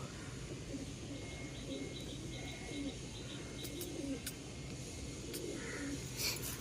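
Andhra pigeons coo in soft repeated low calls at close range over a constant background hum, with a few higher chirps and light clicks mixed in.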